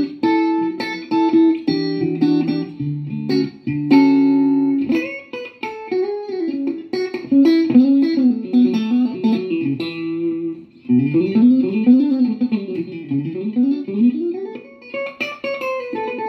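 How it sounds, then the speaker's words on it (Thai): Clean tone from a James Tyler Japan electric guitar played through a Mooer GE-250 multi-effects unit: plucked single notes, chords and bends ring out clearly and alone at a moderate, lively pace. "เดี๋ยวผมบอกให้ฟังเสียงคลีนเนี่ยมันต้องเล่นง่ายก่อน"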